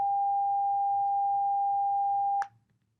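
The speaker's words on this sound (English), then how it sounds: "So let's again listen to the sine wave. We had the 400 hertz. This is the 800 hertz." A steady, loud pure 800 hertz sine-wave tone holds unbroken for about two and a half seconds, then cuts off abruptly with a brief click, leaving near silence.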